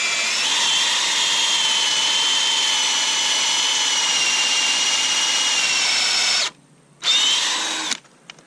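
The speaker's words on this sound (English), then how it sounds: "So start drilling this." Power drill boring a tap hole into a maple tree, a loud close steady whine for about six seconds, then a short pause, a brief second burst and a final stop.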